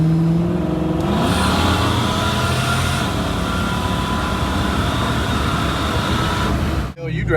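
A supercharged automatic Foxbody Mustang pulls at wide open throttle, its loud engine roar and supercharger whine rising steadily and continuously before cutting off sharply near the end.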